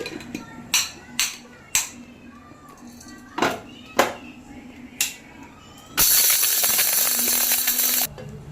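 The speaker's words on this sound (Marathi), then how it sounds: "इथं मिक्सरमध्ये मी डाळ टाकून ठेवली आहे ती आपण बारीक करून घेऊया" A kitchen mixer grinder runs a short, loud burst of about two seconds grinding dal, preceded by several sharp clicks and knocks as the jar and lid are handled.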